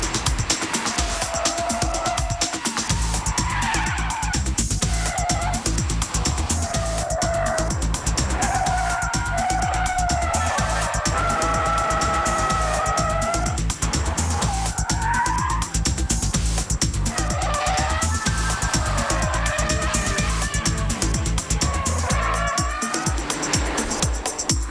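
A Vauxhall convertible sports car drives hard on a race track, its engine revving and shifting through gears with tire squeal and skidding, loud and close, continuous over nearly half a minute.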